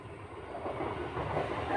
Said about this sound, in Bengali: ওই যে ট্রেন যাচ্ছে দেখতে পাচ্ছ